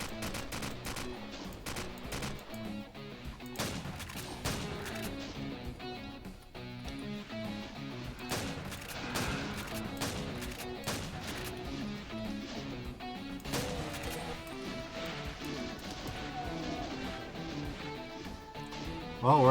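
Video game gunfire rattles in dense, continuous bursts at steady loudness over game music and effects, with no one talking.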